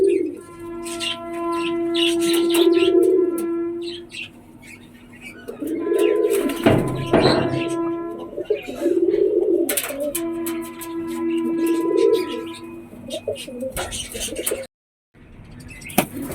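Domestic pigeons coo repeatedly in low, throaty, rolling calls while one chases another nearby, with brief wing and scuffle noises between the calls.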